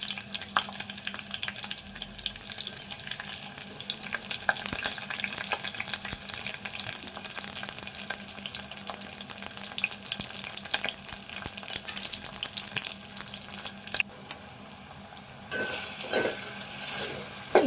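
Onion frying in a pan for moong dal khichdi, a dense continuous sizzle with scattered crackles and faint stirring, dipping briefly before a watery rush near the end.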